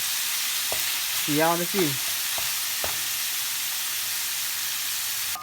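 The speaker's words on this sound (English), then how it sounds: "When you're doing ground beef like this, as you see, you do not need any oil." Ground beef, 80/20, frying in a pan with no added oil, a steady broadband sizzle running throughout with a few brief stirring scrapes near the start, close and fairly loud, with a short spoken line near the end.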